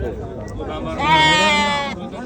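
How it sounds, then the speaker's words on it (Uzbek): Goats bleat at a livestock market in Navoi. One loud, near, wavering bleat rises in the middle against a background of crowd noise. "Takkalar bor ekan, takka. Uchalasi ham buni echkilar."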